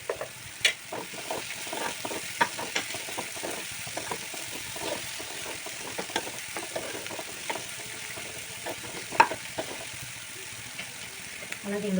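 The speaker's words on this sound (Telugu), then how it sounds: "ఇది కొంచెం వేగనివ్వాలి." Spring onions fry in a pan for a curry with a soft, continuous sizzle, broken by repeated scraping and clinking of a spoon as they are stirred, fairly close and moderately quiet.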